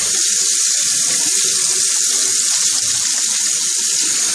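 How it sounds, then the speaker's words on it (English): Tap water runs steadily into a sink while hands are washed, a loud continuous close splash and gush with slight shifts as the hands move under the stream. "I'm going to wash that off my hands."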